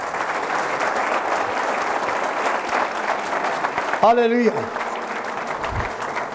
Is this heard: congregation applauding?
yes